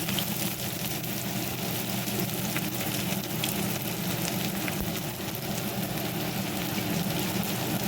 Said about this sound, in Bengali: দেখো, পেঁয়াজটা একটুখানি ভাজা ভাজা হবে।